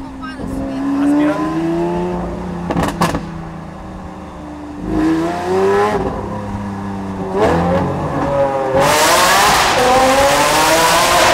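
A Porsche 4x4 skids through a corner, engine tones rising and falling with a few bursts of tire noise and a louder hiss near the end, with people talking over it.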